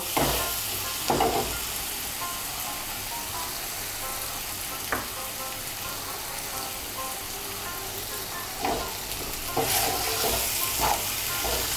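Masala with gathi kochu (taro) and potato is stirred and fried in a pan, a constant close sizzle with occasional spoon scrapes and clinks against the vessel.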